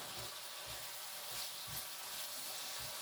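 Food stewing in a pan with a little water left, giving a steady close sizzle and frying crackle with soft bubbling pulses throughout, no talk.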